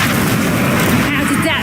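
A Confringo spell blast in Hogwarts Legacy, a loud, booming explosive burst heard right after a shouted spell incantation, with a short rumbling tail.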